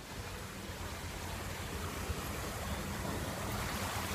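Steady, rushing water roars continuously with a broad, even hiss from a waterfall splashing nearby at a Disney park.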